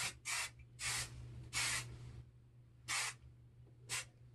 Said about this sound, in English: We're gonna set it with some hairspray